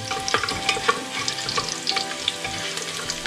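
Whole spices fry in hot ghee with a close, crackling sizzle, punctuated by sharp clicks and scrapes of a stirring utensil against the pan; no one speaks.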